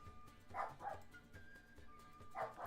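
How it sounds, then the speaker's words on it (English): A dog named Ash barking indoors, several soft, somewhat distant yips and woofs in an uneven rhythm against quiet background hum. "Ash is barking."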